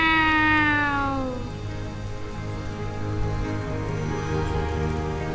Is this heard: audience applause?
no